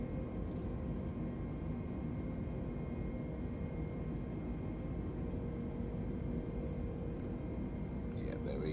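A320neo engines in Microsoft Flight Simulator 2020 as the throttles pull back after takeoff, a steady, even broadband roar with a low hum holding at constant loudness throughout, with a couple of faint clicks near the end.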